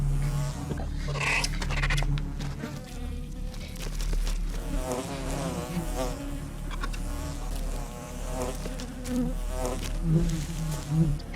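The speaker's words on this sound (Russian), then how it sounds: "Пчелы больно жалят медоеда," African honey bees buzz furiously around a honey badger as they sting it, a thick, close swarm drone with individual bees whining past and scratchy rustling beneath.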